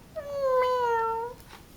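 A voice imitates a kitten meowing, a single drawn-out, rising-then-falling meow, clear and close against a quiet background.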